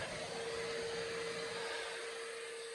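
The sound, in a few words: vacuum cleaner cleaning off a sanding board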